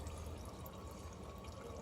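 Automatic transmission fluid trickles out of a 2017 Toyota Tacoma TRD Sport into a drain pan, a faint continuous liquid hiss and patter with no talking.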